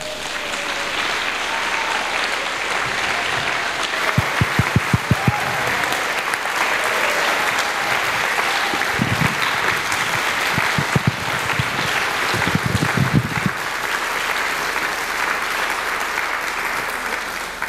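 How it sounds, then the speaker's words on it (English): Audience at a World Cleanup conference applauding, a steady wash of clapping from a large crowd lasting throughout, with a few louder, sharper bursts of claps standing out near the front. "We give you an applause too."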